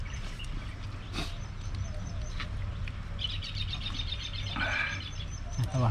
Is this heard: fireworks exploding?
no